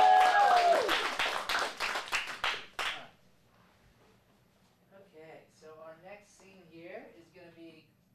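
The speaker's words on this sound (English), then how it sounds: "Before we get their applause," Audience applause for Jenny at a teen showcase: dense clapping runs for about three seconds, fading out, then goes quiet before people start talking.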